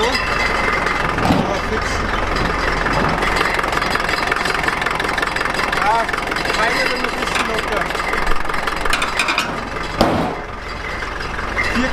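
A Unimog 421 diesel engine idles steadily at close range, a low continuous rumble running under people talking nearby.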